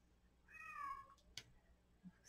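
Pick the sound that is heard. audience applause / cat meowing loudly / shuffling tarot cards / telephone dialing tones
cat meowing loudly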